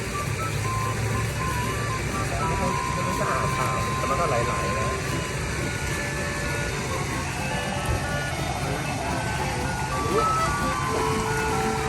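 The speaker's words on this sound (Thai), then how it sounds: "มีรถมาขายโคนาไอซ์หรือไอติมด้วย" A Kona Ice ice cream truck plays its jingle outdoors, a sustained tuneful chime running steadily under continuous background noise with people talking nearby.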